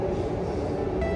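The interior of a moving train gives off a steady loud rumble with a constant hum throughout, heard up close with no talk.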